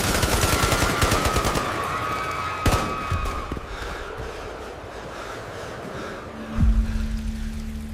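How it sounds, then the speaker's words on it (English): A rapid rattle of gunfire opens, followed by a single sharp, loud gunshot in a ballroom and later another heavy blast, with no talking. "The gunshot rang out before anyone in the ballroom understood what was happening."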